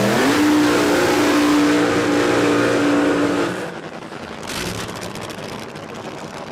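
Nitro drag racing cars, a 57 Chevy and a Trans Am, at Warwick Dragway in Australia, a loud, sustained roaring engine that drops away after about three seconds into a fainter, rougher rumble, with no talking.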